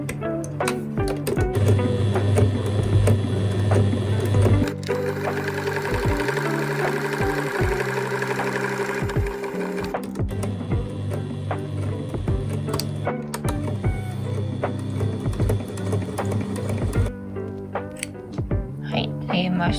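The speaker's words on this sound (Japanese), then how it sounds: "蓋の部分はこの脇をこう5ミリのところね縫っていきます" A sewing machine stitches along the side of a fabric toilet paper holder cover lid, 5 mm from the edge, in a steady mechanical whir with rhythmic needle knocking that pauses and restarts, heard close.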